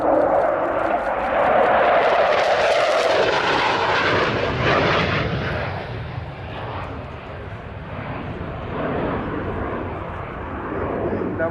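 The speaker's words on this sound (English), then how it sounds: "the Sea Vixen comes into land" A de Havilland Sea Vixen jet fighter coming in to land, its engine roar loud and broad at first, then easing into a steadier, fading rumble.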